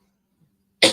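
A single short, sharp sneeze bursts out near the end after near silence, close and loud.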